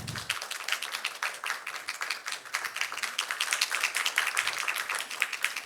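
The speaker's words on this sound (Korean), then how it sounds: "인사와 그 감사 환영의 박수 부탁드립니다" Dense, continuous hand clapping fills a forum hall on low birth rates and population aging as attendees welcome a Japanese embassy minister, many hands close together, even and sustained without talk.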